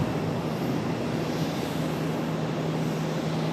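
A steady, loud broadband roar with a low hum from an American Airlines Boeing 737-800 airliner landing at an airport, continuous and unbroken with no voices.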